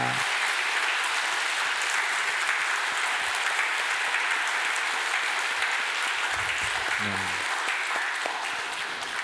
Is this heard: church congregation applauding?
yes